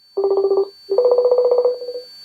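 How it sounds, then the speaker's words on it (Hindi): A phone call being dialed, heard as a loud, close run of rapid dial-tone beeps in two quick bursts with a short gap between them, and no voices. "चलिए यहाँ पर कॉल लगाते हैं"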